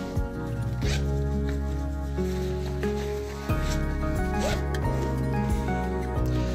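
The liner zip on a MaximoMoto R-Tech Marshal motorcycle jacket is worked in a few close, raspy pulls, heard over steady tonal background music with no talking.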